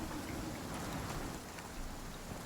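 Steady rain pours down in the Icarus survival game, a dense, even hiss of drops spread across the whole stretch with no talking.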